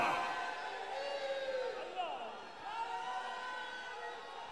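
Crowd at a religious gathering shouting a slogan together, a loud massed roar of many voices with a leader's voice carrying over it.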